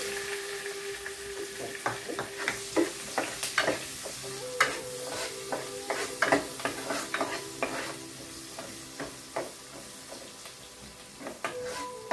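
Onions fry in a pan for kurma, a continuous soft sizzle broken by frequent sharp scraping and clicking strokes of a spoon stirring against the metal, close and without talk.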